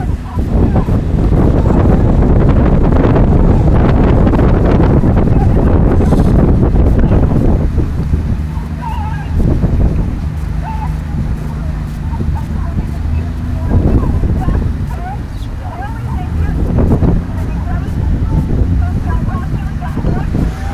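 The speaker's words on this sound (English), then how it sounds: "Wind is picking up a little bit" Strong wind buffets the microphone beside a 2015 Princeton versus Columbia women's rowing race, a loud, steady roar that covers the whole stretch while race commentary carries on over it.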